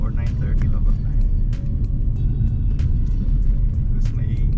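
Steady low engine rumble and road drone inside a moving car on a morning drive near Great Basin National Park, continuous and fairly loud, with a few faint clicks or taps over it.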